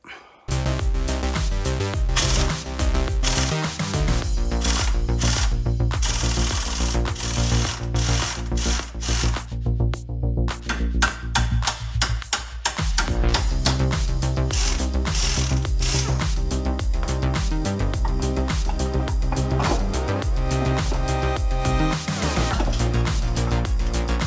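Ratchet wrench loosening a suspension bolt during a broken CV boot repair on a DSM Eagle Talon, a loud, close, fast run of clicking ratchet strokes that carries on almost without pause.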